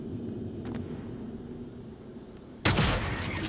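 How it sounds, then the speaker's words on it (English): Shotgun blast in the video game Prey, a single loud sudden shot late in the clip after quiet ambient game hum. "he might have heard the gunshot"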